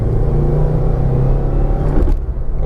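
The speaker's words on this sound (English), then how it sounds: "Driving the WRX on some nice back roads" Subaru WRX engine accelerating on back roads, a loud close rumbling drone with a slowly rising tone, briefly dipping near the end as the revs drop.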